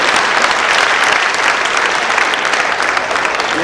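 Loud, dense audience applause at an evening stage event, a continuous close clatter of many hands clapping throughout.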